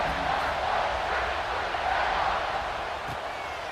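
Stadium crowd in a football video game roaring before kickoff, a dense continuous wash of cheering that holds steady and loud for the whole stretch.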